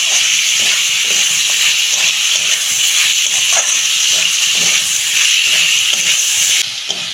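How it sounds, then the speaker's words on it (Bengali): Snake gourd and pumpkin go into a hot pan of fried spices in a home kitchen and sizzle loudly. The hiss is bright and steady and continues unbroken for several seconds. "এই যে চিচিঙে আর কুমড়োটা দিয়ে দিচ্ছি।"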